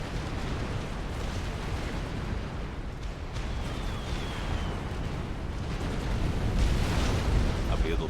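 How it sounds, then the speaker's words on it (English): Bombing-run explosions from the Supreme Commander strategy game rumble as a dense, continuous barrage of booms and blasts that swells toward the end, with a caster's voice faintly present in places. "Lovely little bombing run from Hybrid."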